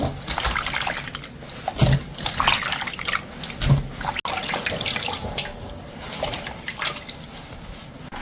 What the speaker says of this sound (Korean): 찬물에 가볍게 한두 번 헹궈서 소금간도 줄이고 이물질도 없애요